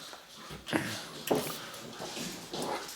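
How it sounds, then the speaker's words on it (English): Dogs scuffle and yip softly in play, with a few whimpers and sharp bursts of movement at a moderate distance. "Looks like the dogs are having all kinds of fun."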